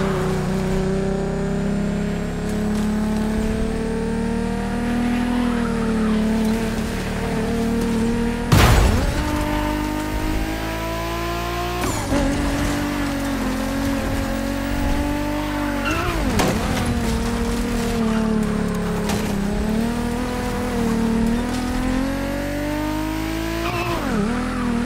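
Car with a 632 big block crate engine in The Crew Motorfest, a loud sustained engine drone with revving swells, shifts and tire squeals, with no talking.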